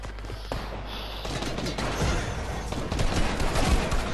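Dense overlapping gunfire from many players in an online shooter, a continuous loud crackling barrage building slightly toward the end, close and relentless with no clear gaps.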